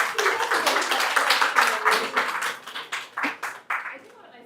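Audience at a community day event clapping in a loose burst that thins into a few separate slaps near the end, with voices talking over it.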